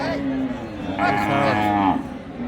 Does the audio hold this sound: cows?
yes